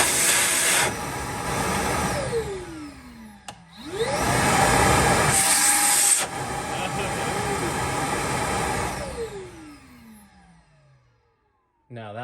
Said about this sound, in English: Now that vacuum really sucks.